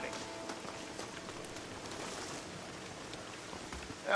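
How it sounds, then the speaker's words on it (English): Steady rain hisses evenly in Red Dead Redemption, a soft continuous wash of droplets with a few faint patters, fairly quiet and unbroken by voices. "And it's raining."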